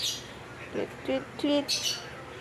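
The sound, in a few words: birds tweeting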